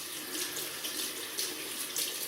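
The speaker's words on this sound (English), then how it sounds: "I'm going to rinse that off." A fat-tip piccolo shaving razor being rinsed under a running tap, a steady close rush of water with slight splashy variation and no talking.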